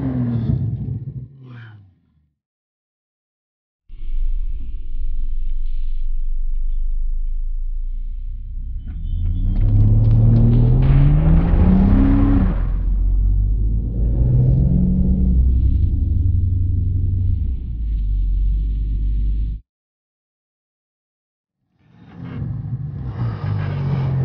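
A Porsche 911 Turbo S (991) accelerates hard from inside the cabin, a loud deep rumble and rising engine roar through the gears, with quiet gaps before and after and a second surge at the end.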